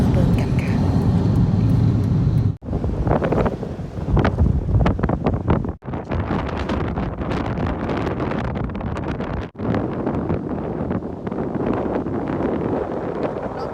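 Strong stormy wind on a Norwegian seashore roars and buffets the microphone in heavy, sustained gusts with brief lulls, and someone speaks over the din.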